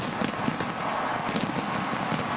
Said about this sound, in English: with fireworks booming overhead